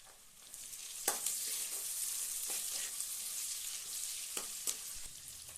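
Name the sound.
onions frying in oil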